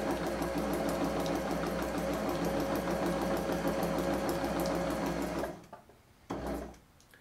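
A sewing machine runs steadily, stitching along a printed line on a practice sheet with a continuous mechanical hum and rapid needle rhythm, then stops abruptly, followed by a short mechanical whir and a pause.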